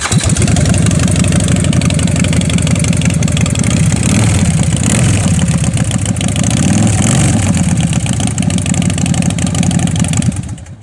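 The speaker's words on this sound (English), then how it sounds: "Fuel injected. Let them hear it, Tate." Fuel-injected engine of a used Thunder Mountain custom springer motorcycle running steadily at a dealership, a loud continuous idle with slight swells of revving, close and alone.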